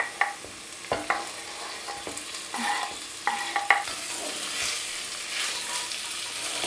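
Rice with dried eggplant, peppers, garlic and tomatoes sizzles in a pan while a spoon scrapes and stirs it, with sharp clacks early on over a continuous frying hiss.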